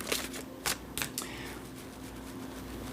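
Tarot cards being shuffled by hand, a few quick riffling bursts and soft slaps close by, followed by a quieter steady background.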